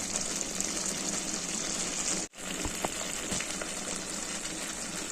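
Brinjal curry cooked without water simmers in oil in a pan, giving a steady, close bubbling sizzle that fills the whole clip, broken by one brief drop to near silence partway through.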